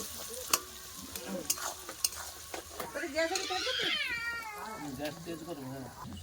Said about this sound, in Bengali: পেঁয়াজটা ভালো করে লাল করে ভেজে নেব